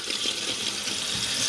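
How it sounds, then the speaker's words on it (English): Water hissing and rushing steadily as a toilet tank refills after the supply valve is opened, close and constant with no other sounds. "And we're going to turn the water on."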